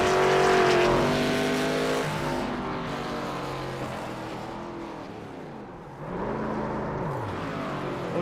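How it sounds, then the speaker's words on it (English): Loud race car engines from an SRX stock car race in a racing video game roar continuously, with rising and falling pitch as cars accelerate and pass during practice, and no talking over them. "We got the engine noise turned up loud and clear for everyone today."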